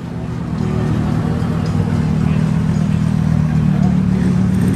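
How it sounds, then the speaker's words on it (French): A Porsche Cayenne rolls past at a cars-and-coffee meet in Malibu, its steady, loud engine drone holding close throughout over a low rumble. "Porsche Cayenne"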